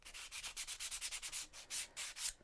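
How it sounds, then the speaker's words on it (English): Sandpaper rubbed by hand along the edges and corners of a small wooden piece, a steady series of quick scratchy back-and-forth strokes, close and clear, with no talking. "taking a little piece of sandpaper, and I'm just wearing the edge of this a little bit, and wear the corners a little bit"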